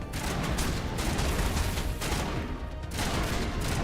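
Enemy gunfire in the Mass Effect video game: dense, continuous automatic shooting with rapid overlapping shots, loud and unbroken apart from a brief dip in intensity, with no talking.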